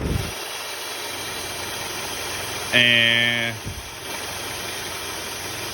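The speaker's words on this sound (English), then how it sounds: "Engine's going under load." A car engine runs steadily under load during air-conditioning diagnosis on a system with a mechanical control valve, a continuous close drone with a brief tonal whine rising over it midway; a voice speaks briefly.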